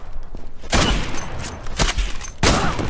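Gunfire in the online shooter game Zula, with several loud, sharp shot bursts spread over a few seconds above busy game noise.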